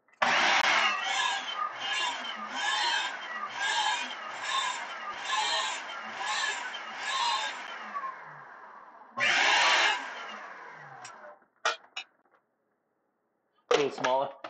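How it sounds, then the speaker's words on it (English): A blender rices cauliflower for keto sushi in loud, pulsing bursts of whirring motor and chopping, a long pulsed run followed by a shorter burst and a few brief blips, with a voice speaking near the end. "gonna take this and rice it in the on top of the blender."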